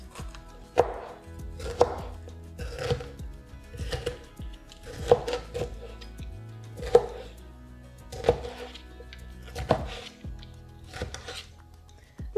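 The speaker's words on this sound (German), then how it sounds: "Die halbe Paprika entkerne ich und dann schneide ich sie in" A knife chops half a seeded bell pepper into bite-size pieces, with about ten sharp, evenly spaced chops roughly a second apart, each followed by a faint clatter, close and clear with no talking.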